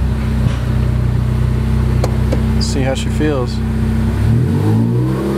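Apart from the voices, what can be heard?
Ford Focus ST engaging reverse with newly installed clutch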